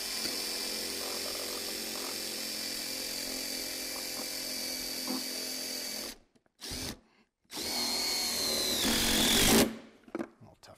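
A power drill drives a screw into a fastening hole on a purlin holder mounted to a beam, whining loud and steady close by for about six seconds, then two shorter bursts after brief pauses.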